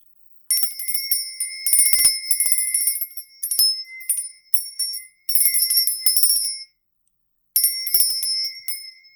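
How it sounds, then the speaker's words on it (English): A small bell rung to cleanse the air, bright high metallic ringing in repeated bursts of rapid strikes separated by short pauses, loud and close, with no talk. "I'm going to cleanse the air with this bell as well"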